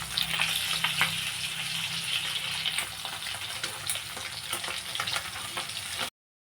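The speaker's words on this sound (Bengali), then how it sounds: "মাছগুলোকে আমি এখন ভেজে নিচ্ছি।" Lasin fish frying in a pan before being cooked with bottle gourd, a steady crackling sizzle that holds close and loud throughout with small popping bursts, no voices.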